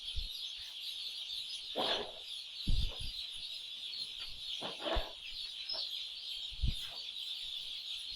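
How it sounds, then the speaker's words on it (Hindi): A large flock of young poultry chicks, around 7,000, peeps on a farm as a dense, continuous high chirping chorus. Occasional louder clucks and scuffing noises rise out of the chorus. "चिक्स ही बहुत ही ज़बरदस्त तरीके से जो है टहल रहे हैं"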